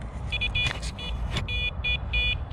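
Electronic fishing bite alarms at a cold riverbank sound as rapid repeated high beeping bursts in uneven runs, fairly loud, over a steady low rumble of wind or background noise.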